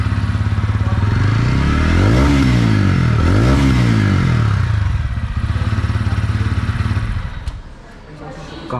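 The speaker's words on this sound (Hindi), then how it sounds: "सेम मैंने एग्जॉस्ट अगर चालू ही कर दिया, तो एक बार एग्जॉस्ट की साउंड भी सुना देते हैं।" A TVS Ronin 225 motorcycle idles close by with a deep, bassy exhaust burble, revved twice in quick swells that fall back to a steady thump before the engine is shut off near the end.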